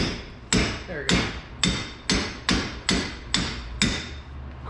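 A hammer strikes leaf spring parts in a steady series of eight sharp, ringing metallic blows, evenly spaced and close, with no talk over them.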